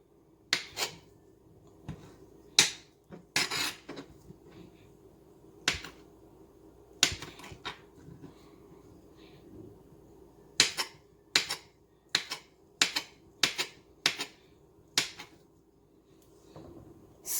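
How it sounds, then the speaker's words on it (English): A knife dices luncheon meat on a cutting board in a home kitchen, sharp isolated chops landing in irregular bursts, some quick runs of three or four taps, close and clear against a quiet room. "So I diced 1 slice in 3, so I'm going to cut it small pieces."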